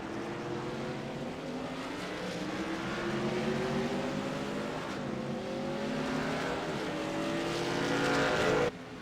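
Racing trucks from an Outlaw Truck Series race at Talladega in a racing video game, their engines droning together in a steady, loud pack with rising and falling pitch that runs without a break.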